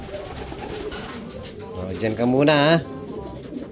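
Racing pigeon giving a short throaty coo near the end, close and clear, while someone talks over it in the loft.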